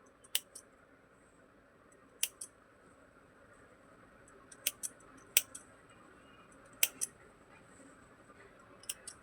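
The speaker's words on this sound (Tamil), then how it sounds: "இந்த வேண்டாத த்ரெட்டெல்லாம் இது நம்ம கட் பண்ணிடலாங்க" Scissors snip away unwanted loose threads on a stitched needlework pattern, making a series of sharp, close, quiet clicks at irregular intervals in a quiet room, with no talking.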